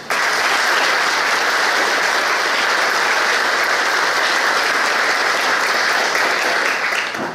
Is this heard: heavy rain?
no